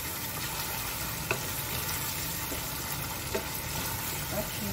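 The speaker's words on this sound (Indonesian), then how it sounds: "Sekarang saya kacau ya. Kacau rata-rata." Rice for nasi lemak is stirred in a pan while it cooks, producing a steady broadband sizzle with a few soft scraping knocks of the spoon, loud and continuous and without talk.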